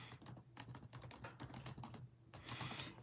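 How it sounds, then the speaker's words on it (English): Quiet, irregular clatter of fingers typing on a computer keyboard, bursts of crisp key clicks with short pauses between, close and alone without speech. "I'm going to type it into the chat here."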